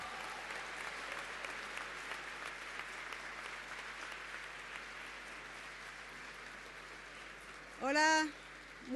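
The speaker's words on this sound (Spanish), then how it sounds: "Un fuerte aplauso, mucha energía, mucho entusiasmo." Distant, fairly quiet applause rolls on steadily from an audience at a seminar marking fifty years of Chile's neighbourhood councils law, with a brief nearby voice cutting in near the end.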